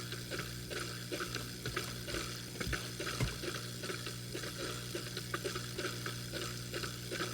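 A water pump in a broken home fish tank churns and splashes steadily, a continuous bubbling wash with small irregular plops and gurgles, close and fairly loud throughout, with no one talking.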